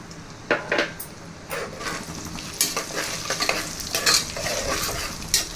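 Urad dal, mustard seeds and cumin fry in a hot pan with oil for Chennai-style katte pongal, a steady close sizzle broken by sharp crackles and spoon scrapes against the metal.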